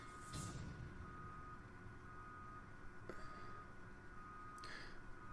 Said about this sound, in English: trucks beeping as they are working and finishing up their workday